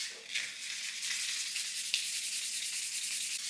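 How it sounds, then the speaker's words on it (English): A fishing rod blank is lightly sanded with 600 grit sandpaper, giving a continuous soft, hissing scratch of close-up back-and-forth rubbing with small scraping accents. "we're just going to lightly sand this to see how close we can get to getting a little bit higher up the rod"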